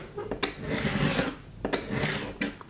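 Paper being trimmed for a mini album journal, soft scraping and rubbing strokes of a trimmer with a couple of sharper clicks, close by and fairly quiet, no voices.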